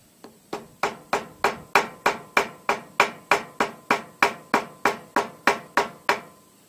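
A hammer taps steadily in an even rhythm, about fifteen sharp close strikes cutting out carburetor gasket material, each ringing briefly before the next.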